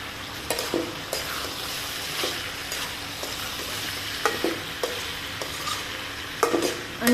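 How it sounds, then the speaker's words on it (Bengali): Mixed vegetable curry with spices and green chilies being stir-fried over a high flame: a continuous close sizzle broken by repeated scraping and clacking strokes of a spatula in the pan, with no talk. "এভাবে ভাজা ভাজা করে কষাই নেব"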